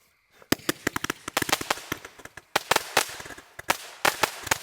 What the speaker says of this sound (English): we got a 200-shot Roman candle